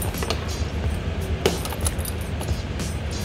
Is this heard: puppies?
no